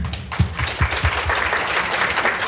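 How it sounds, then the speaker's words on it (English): An audience at a conference plenary session applauds the speakers, a dense patter of many hands clapping steadily at moderate volume throughout. "please give a big round of applause to the speaker"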